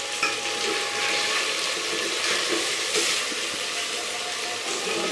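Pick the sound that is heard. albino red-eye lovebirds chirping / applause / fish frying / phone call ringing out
fish frying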